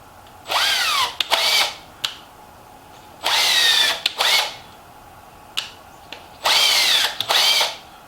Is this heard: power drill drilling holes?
yes